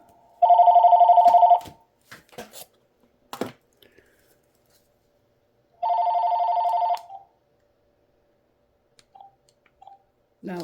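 An electronic telephone ring from a robocall sounds twice, each burst about a second long and separated by several seconds of quiet broken by scattered clicks and handling noises.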